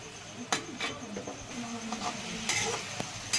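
Radish, potato and fish curry being stirred in a pan, with a gentle sizzle and scattered scraping clinks of a spoon against the metal, close and moderately loud.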